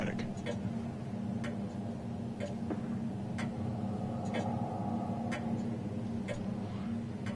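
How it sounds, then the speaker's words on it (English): Steady clock ticking inside a dim horror game interior, sharp regular ticks roughly every second over a constant low mechanical hum, moderately close. "I was like, hear a clock somewhere"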